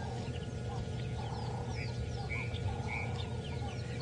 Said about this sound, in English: But you can hear all the birds all starting to wake up now.